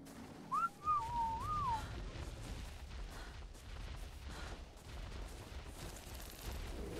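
A short rising-and-falling whistle command in ARK Survival Of The Fittest, with rumbling in-game noise behind it. No one talks.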